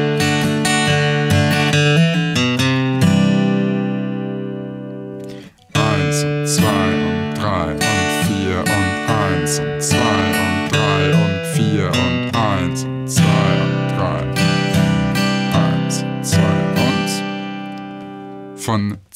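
Acoustic guitar playing a chord accompaniment with walking bass runs in eighth notes, moving from C toward G, with rich sustained strummed tones and a brief pause near the middle, steady and close with no talking.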